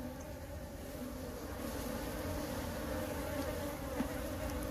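Honeybees buzz around a hive frame being worked by a beekeeper, a steady, dense hum of many bees close by, holding an even level throughout with no talking.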